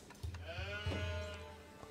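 Sheep in the video game Age of Empires IV bleat twice in quick succession, a clear, close wavering cry over soft game ambience.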